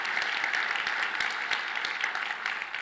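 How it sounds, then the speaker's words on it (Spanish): A conference audience at a leadership technology event applauds loudly and steadily, many hands clapping together in a dense, sustained wave that fills the hall with no voices over it. "por favor, un aplauso para todos los que hacen posible esto"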